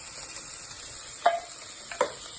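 Beans being stirred into a sizzling pot of French-style soup made with everyday ingredients: a steady low sizzle with two short scraping stir strokes near the end, close and moderately loud, with no voices.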